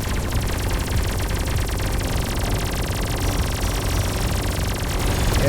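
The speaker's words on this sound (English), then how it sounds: "Okay, let's spin up the Gauss Cannon again." A Gauss Cannon fires in the space-combat video game Everspace 2, a loud, sustained stream of rapid crackling discharges that blur into dense static-like noise for several seconds without a break.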